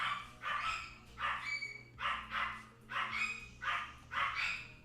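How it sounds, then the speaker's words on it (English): Several dogs barking in quick bursts of two or three, repeating about every second, moderately distant and fairly faint, with no voices over them. "the dogs are barking."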